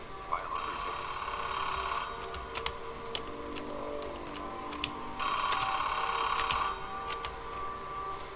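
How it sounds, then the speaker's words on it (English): Phone ringing in the video game Oxenfree II: Lost Signals, two bursts of electronic trilling rings separated by a pause, with light ticking and clicks in between. "Hey, phone ring."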